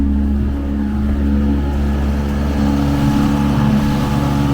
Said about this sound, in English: Controlling motor, auxiliary motor, kicker, whichever you want to call it, seems to be working good.